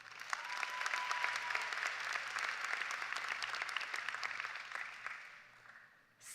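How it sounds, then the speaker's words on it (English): A graduating class at a high school graduation ceremony applauds themselves, a dense, steady wash of many hands clapping that holds loud and even for several seconds before stopping abruptly near the end. "I ask you to applaud yourselves."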